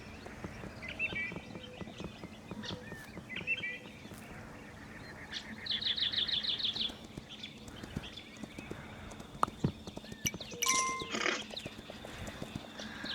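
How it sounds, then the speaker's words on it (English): Birds chirp in the Kingdom Two Crowns video game, short bright twittering bursts over soft clip-clopping hoofbeats and ambient game sounds, with a denser run of rapid chirps midway. "Listen to them birds chirp, chirp, cheep, cheep, cheep, cheep."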